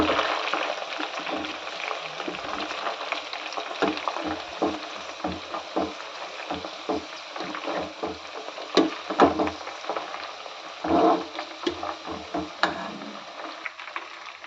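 Ayurvedic hair oil with herb leaves simmers on a low flame, producing a soft, steady bubbling sizzle with irregular small pops and stirring clicks, close but fairly quiet.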